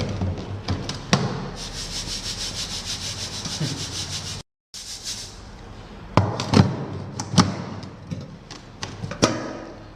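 Sand is shaken through a stacked laboratory test sieve during sieve analysis, a close, steady granular rasp broken by rhythmic thumps and taps as the sieve is jolted, with a brief dropout midway.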